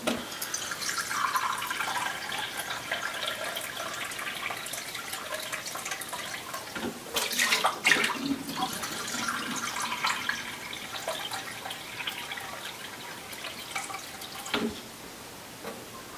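Water runs steadily from a tap, a continuous splashing rush, with a couple of brief clunks partway through before the flow continues.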